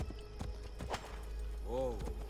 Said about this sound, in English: They ride the horse inside.